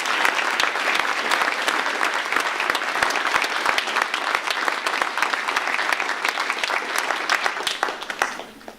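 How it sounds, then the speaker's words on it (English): An audience at a school certificate of achievement ceremony breaks into loud, sustained applause, crisp individual claps blending into a dense, even roar that carries on for about eight seconds before tapering off. "And applause, please."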